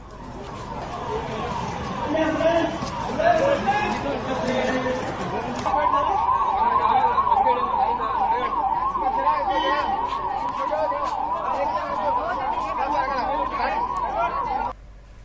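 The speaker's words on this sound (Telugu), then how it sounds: "మాక్ డ్రిల్ నేపథ్యంలో హైదరాబాద్లోని ప్రధాన కూడళ్లు, అపార్ట్మెంట్ల వద్ద 4 గంటలకు సైరన్లు మోగించారు." Warbling emergency sirens wail across a Hyderabad street during a civil-defence mock drill, a loud oscillating tone that grows steadier midway, mixed with crowd chatter and voices nearby.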